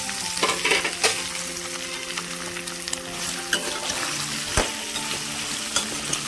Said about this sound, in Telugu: ఉల్లిగడ్డలు ఇలా వేగాలండి, కావాలని కొంచెం ఎక్కువసేపు వేయించాను.